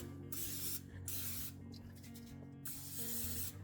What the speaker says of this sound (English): I'll just spray these.